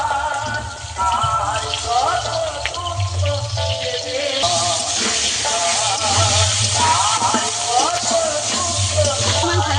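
Potatoes and green chillies dropped into hot oil with black cumin seeds, sizzling in a continuous bright hiss that swells partway through, with a voice talking over the frying.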